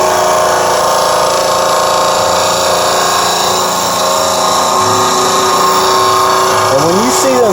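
A bench grinder hums loudly and continuously while a woodturning tool's fluted edge is pressed against the wheel, with a brief scraping sweep near the end and a voice under the drone.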